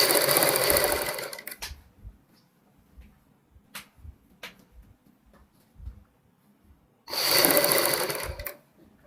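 A sewing machine stitches a sherwani seam in two loud, steady bursts, one at the start and one near the end, with quiet handling clicks and light thumps of fabric work in between.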